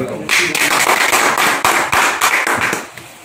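Applause breaks out for the repair technicians after a phone is programmed and powered back on. Dense, sharp clapping fills the space loudly and steadily for about three seconds, then thins out near the end.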